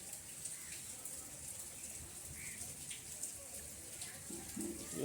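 Heavy rain pours down and pools on a rooftop and in the lane, a faint steady wash of falling water with scattered drips and splashes, quiet and continuous.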